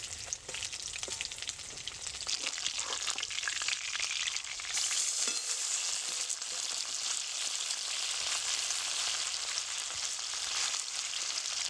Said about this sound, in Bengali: মাছটা আমার ভাজা হয়ে গেছে আমি তুলে নেব